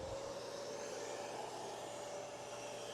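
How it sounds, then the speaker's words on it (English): A shop vacuum connected to a biscuit cutter runs with a steady, even whooshing hum and a thin whine on top. It holds constant and close throughout. "We'll turn on the vacuum and make a couple test cuts."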